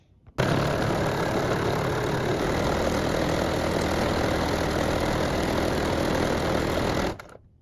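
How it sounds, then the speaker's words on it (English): A sewing machine runs a straight stitch along a bag strap, a continuous close motor whir and rapid needle chatter that starts abruptly, holds steady for about seven seconds, then stops. "now we are going to go back through and sew a straight stitch down every 1/4 inch"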